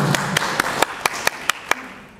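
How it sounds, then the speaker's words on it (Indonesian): Scattered hand claps at a presentation on fuel standards, about eight distinct claps spaced evenly apart in a small room, fairly close and moderately loud, fading to quiet room tone at the end. "Tepuk tangan Bapak Ibu."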